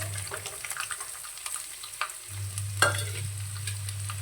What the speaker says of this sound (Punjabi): ਪਿਆਜ਼ਾਂ ਨੂੰ ਵੀ ਆਪਾਂ ਚੰਗੀ ਤਰ੍ਹਾਂ ਹਿਲਾ ਕੇ ਤੇ ਇਹਨਾਂ ਨੂੰ ਭੁੰਨ ਲਾਂਗੇ